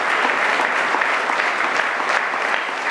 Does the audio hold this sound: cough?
no